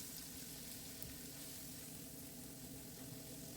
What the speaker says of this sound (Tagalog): ilagay ang garlic at igisa hanggang maging light brown